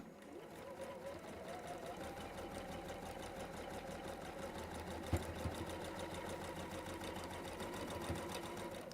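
Sewing machine running steadily while stitching a quilt block seam, a continuous motor hum and rapid needle chatter that hold for the full stretch with one brief knock midway.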